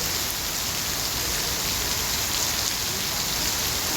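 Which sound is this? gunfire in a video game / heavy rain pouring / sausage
heavy rain pouring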